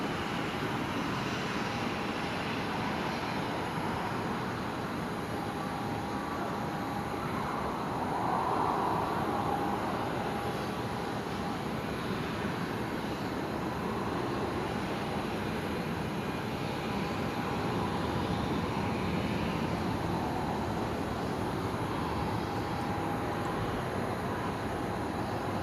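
A Velocity jet departs runway 01 right at Brisbane Airport at twilight, a steady broadband engine roar holding at moderate level throughout, with no voices heard.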